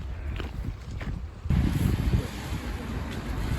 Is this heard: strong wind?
yes